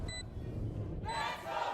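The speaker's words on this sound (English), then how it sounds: "Crowd getting loud for the home team here." Roaring crowd at a Valorant Game Changers esports match in Berlin, a broad wash of cheering and shouting that swells near the end over arena noise, with short electronic beeps at the start.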